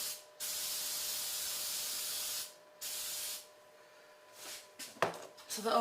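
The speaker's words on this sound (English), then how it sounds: "I'm just going to spray it with some nonstick spray" Several bursts of hissing nonstick cooking spray from an aerosol can over a sink, a long one followed by shorter ones, then light clinks and clatter of kitchen items nearby.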